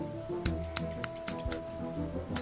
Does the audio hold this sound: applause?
no